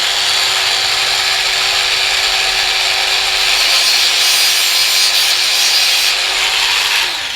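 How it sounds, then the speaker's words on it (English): A Proxxon long neck angle grinder cuts through a hard steel spring, giving a loud, continuous high-pitched whine and abrasive grinding that holds steady without pause for several seconds. "I've got a Proxon long neck angle grinder,"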